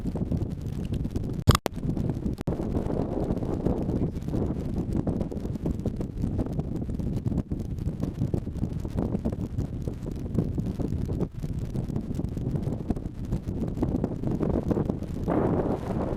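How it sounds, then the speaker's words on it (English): Steady wind roars and buffets across the microphone on an uphill stretch of the West Highland Way between Drymen and Rowardennan, loud and close, with a few sharp gusts and no voices. "So it's nice and windy uphill here."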